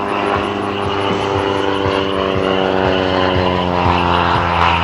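A Decathlon aerobatic propeller airplane performs at an airshow, its engine droning steadily and loudly throughout with a constant buzzing propeller tone and no pauses.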